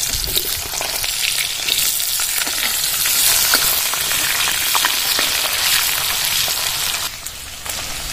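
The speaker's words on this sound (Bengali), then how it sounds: "টুকরো করে নিয়েছি, আলুগুলো দিয়ে দেবো তেলে।" Potato pieces dropped into hot oil seasoned with dried red chili and nigella seeds for a Bengali tel koi fish curry, a loud, dense, continuous frying hiss close up, easing slightly near the end.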